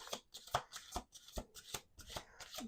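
A deck of playing cards riffled and bridged by hand in a quick series of crisp, fluttering bursts, close up and moderately quiet, with no talking.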